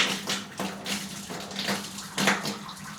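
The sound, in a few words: water flowing from tap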